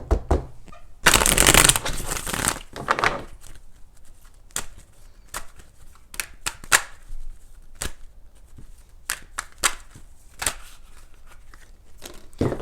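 Tarot cards are shuffled by hand in a long burst of riffling and flapping, followed by scattered soft taps and slides as cards are laid down close by, with no speech.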